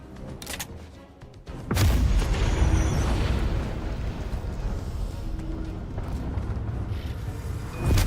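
A big explosion in the Black Ops Cold War video game hits after a brief quieter lead-in, then rolls on as a loud, sustained rumbling boom with debris-like crackle, swelling again at the end.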